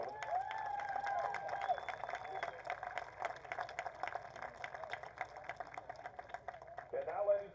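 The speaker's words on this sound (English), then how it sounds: "Let's give them a good round of applause" Crowd at a college football game between Newberry and Mars Hill applauds and cheers, a distant, thin patter of clapping with scattered whistles, faint against the open stadium air and ending in a brief swell.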